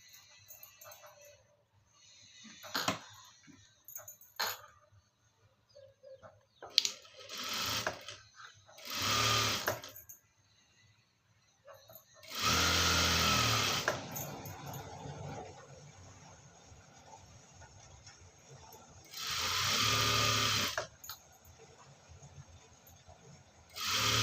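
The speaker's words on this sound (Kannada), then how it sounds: "ಲೈನಿಂಗ್ನ ಈ ಥರ ಇಟ್ಕೊಂಡು ಒಂದು ಸ್ಟಿಚ್ ಹಾಕ್ಕೊಳ್ಬೇಕು ಫ್ರೆಂಡ್ಸ್ ಬಾಟಮಲ್ಲಿ" Sewing machine stitching along the bottom of a garment lining in several separate bursts, some brief and some a few seconds long, with quiet pauses and occasional soft handling noises between them.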